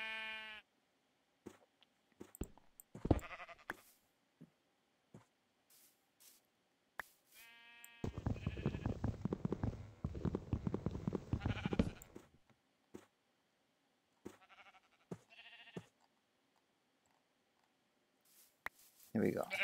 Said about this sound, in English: let's borrow our dear sheep's skin.